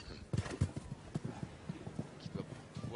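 Horse hooves at the Aachen 2011 CHIO show jumping event give a rhythmic, fairly close clip-clop of strides under steady commentary talk.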